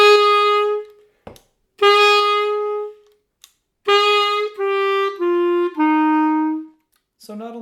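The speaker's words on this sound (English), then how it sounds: "I'm going to pick clarinet right now." Clarinet sounding a short run of sustained, clearly separated notes, each starting with a firm accented attack before holding steady, close and moderately loud with brief gaps between.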